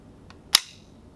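The action of a Feather Industries AT-9 carbine gives a faint light click followed by a single sharp metallic snap as the trigger is pulled, close and brief in an otherwise quiet room.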